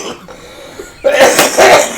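A person coughs, a couple of harsh close bursts in the second half following a quieter stretch.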